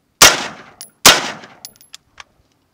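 An AR-style rifle with a 16-inch barrel fires 55-grain .223 rounds at 10 yards toward an armor plate: two loud, sharp shots about a second apart, each with a ringing decay, followed by small metallic clinks, with no voices.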